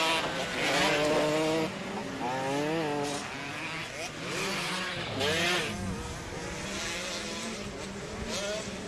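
Two-stroke 100–125cc trail motorcycles racing in a rallycross event, engines revving and rising and falling in pitch as they pass, with a commentator talking over the steady roar.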